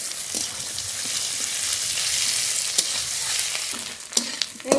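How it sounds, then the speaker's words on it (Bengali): Cauliflower florets fry in a pan with a steady, close hiss of sizzling oil, broken by a few sharper clicks and scrapes of stirring; no one speaks. "এই ফুলকপিগুলো খুব ভালোভাবে ভাজা হয়ে গেছে"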